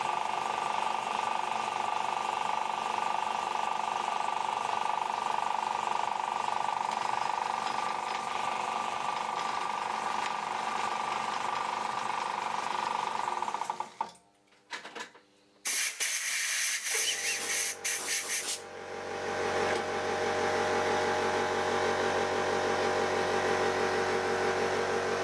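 A shop air compressor runs steadily with a loud, continuous hiss and hum while a pneumatic engraver is being built, briefly cutting out before resuming its constant drone.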